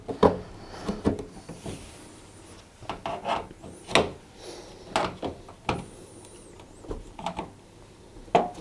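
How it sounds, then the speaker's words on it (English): A flat-headed screwdriver prying plastic clips off a tumble dryer's plastic heater cover: sharp snaps and clicks scattered among scraping and rubbing sounds, close-up and uneven with pauses between efforts. "unclip the clips that hold the plastic heater cover in place using a flat-headed screwdriver"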